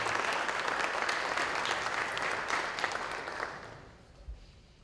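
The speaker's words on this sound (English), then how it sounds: "Let's have a round of applause for our Do the Right Thing Award winners" Steady applause from a ceremony audience honoring Do the Right Thing Award winners, a broad wash of clapping that fades away over the final second.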